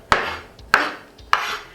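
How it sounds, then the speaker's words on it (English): A knife chops food on a cutting board in three evenly spaced, crisp strikes, close and clear with quiet gaps between them. "As you chop, you bring it in together, just like so."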